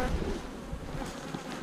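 Honey bees hum thickly around an open hive during nuc making, a continuous near buzz with no voices.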